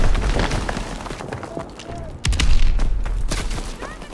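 Gunfire in the World War II shooter Call of Duty, with a trench gun among the weapons, sharp blasts and a heavy burst over dense game noise, with excited players shouting.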